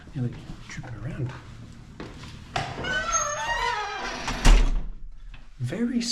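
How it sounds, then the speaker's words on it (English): Squeaky apartment doors opening in a dark building, giving a drawn-out creaking squeal followed by a sharp knock, with people talking before and after. "Very squeaky doors."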